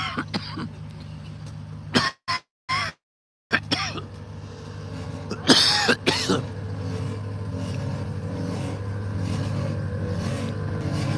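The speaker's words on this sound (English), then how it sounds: "That's my compressors kicking off. You're filling up air." Air ride suspension compressors on a Dodge SRT Hellcat run with a steady, close droning hum, preceded by a few brief knocks and dropouts.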